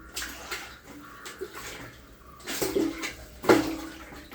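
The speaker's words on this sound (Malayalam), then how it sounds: "വെള്ളം രാവിലെ എടുത്ത് വെച്ചാൽ കുറച്ച് വെള്ളമുണ്ട്. അത് ഇവിടെ ഒഴിച്ചു." Water poured out during manual cleaning of a well, heard as a few separate splashing gushes, the loudest near the end, with no talk over them.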